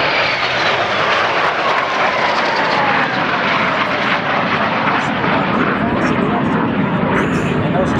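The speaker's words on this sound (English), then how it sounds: "This is a Vampire Jet in the lead." Vampire jet racing past in the lead at the Wanaka Air Show, a loud sustained roaring jet wash with a falling whine as it passes, with a commentator talking over it.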